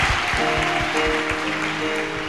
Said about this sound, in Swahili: Pe Yesu makofi kabisa.